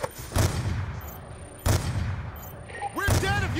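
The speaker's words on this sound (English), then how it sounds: "Taking fire from snipers on the overpass!" Sniper and rifle fire from an overpass in Call of Duty Black Ops 2, three heavy, booming shots spaced apart amid battle noise, with whizzing sounds and muffled voices underneath.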